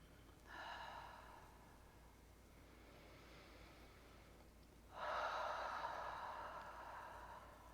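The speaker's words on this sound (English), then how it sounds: "We breathe in through the nose and out through the mouth." A person doing a relaxation exercise takes a soft breath in through the nose, then after a pause lets out a longer, stronger breath through the mouth, close and hushed against steady background hiss.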